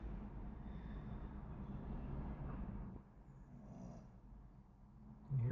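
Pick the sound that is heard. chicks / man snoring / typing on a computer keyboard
man snoring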